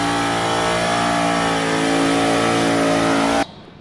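Supercharged engine in a blown HJ car roaring through straight-out exhaust pipes, a sustained loud, raspy rev held for over three seconds before cutting off abruptly.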